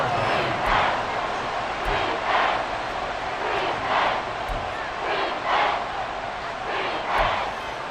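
A stadium crowd cheering in the American football video game Madden NFL 24: a continuous, loud roar that swells in rolling surges, with faint sharper noises on top.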